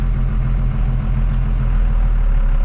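A car engine idles with a steady, throaty, loping burble after its ignition timing was changed, loud and continuous with a rhythmic pulse and no talk.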